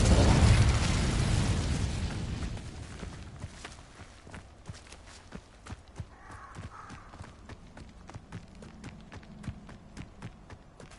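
Incendio fire spell cast in the Hogwarts Legacy game: a loud whooshing, roaring burst at the start that fades over a few seconds into a trail of rapid clicking crackles and small pops, with no talking.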